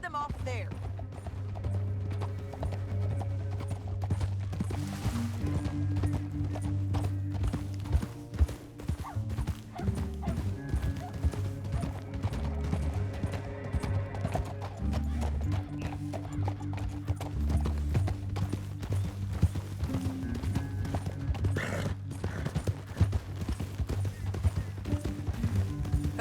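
Rhythmic horse hooves clip-clop steadily throughout in a video game, with a voice talking over them and a brief whinny.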